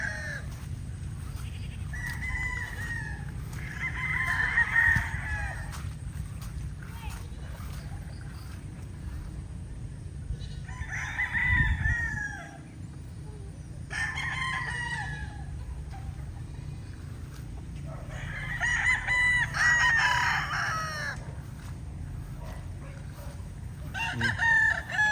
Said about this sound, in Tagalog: pinakita ko lang yung mga stags natin sa ganitong panahon